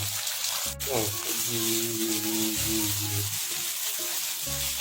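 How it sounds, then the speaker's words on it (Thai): Three eggs stir-fried in an oiled pan with tofu and Chinese sausage for ngor-ngae style fried noodles, a steady close sizzle with clattering stirring and a voice talking over it. "ผัดเลย ใส่ไข่ลงไปนะครับ ผัดให้หอม"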